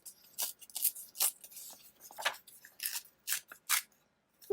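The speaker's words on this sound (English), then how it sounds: "I'm kind of cutting around the" Scissors snip around paper words for a journal page, a series of close, crisp cuts in irregular bursts with short pauses between, no talking.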